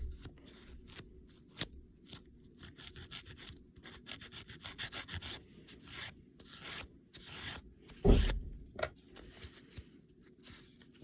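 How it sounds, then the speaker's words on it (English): Sandpaper scrubs away dried glue on a Demi trainer model build in quick, rhythmic back-and-forth strokes, a raspy, close rubbing that pauses briefly between passes. "Make sure we sand down all that glue."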